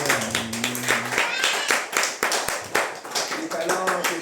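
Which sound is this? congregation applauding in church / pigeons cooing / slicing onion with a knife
congregation applauding in church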